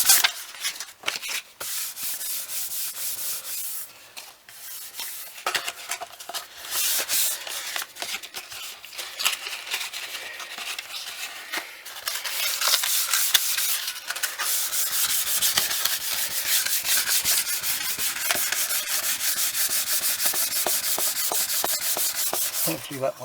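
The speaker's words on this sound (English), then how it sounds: "once I've sanded the varnish off of it" Sandpaper rubbed by hand over the varnished finish of a Les Paul style guitar body, a steady run of close, scratchy strokes that grows denser and more continuous in the second half, with no talk.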